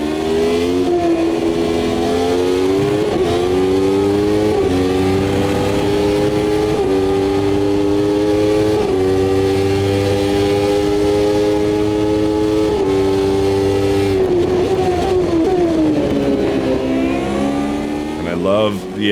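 Race cars in the Automobilista 2 sim racing game roar along at steady high revs, the sustained engine note rising and falling through gear changes, loud and continuous throughout.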